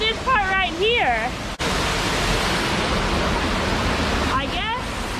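A stream on the Eye of the Needle trail along Arkansas's Buffalo National River flows with a loud, constant, close rushing roar; a person talks over it at the start and again near the end.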